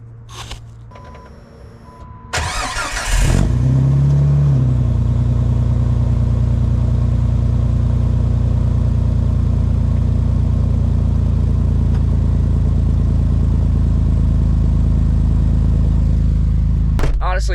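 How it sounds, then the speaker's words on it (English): A Jeep TJ engine cold-starts with a short cranking burst, then settles into a loud, steady, droning idle through its exhaust for the rest of the clip, with a brief clatter at the very end. "let's do a cold start so you have a reference"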